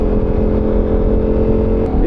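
Motorcycle engine droning steadily while riding through high winds, close and loud, with a constant hum and no speech.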